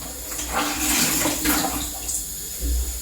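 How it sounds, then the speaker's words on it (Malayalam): Faded black jeans being soaked and sloshed in water before fabric dyeing at home, giving close splashing and swishing sounds in short bursts. "വെള്ളത്തിൽ വെച്ചൊന്ന് നനച്ച്"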